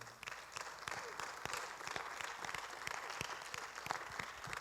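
Quiet congregation applause during a church sermon, a steady patter of hand claps with distinct individual slaps, heard at a distance and low in level throughout.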